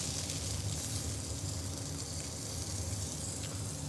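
Venison loin sears in a hot pan with a steady, close sizzle and hiss that holds at an even level throughout, with no voices.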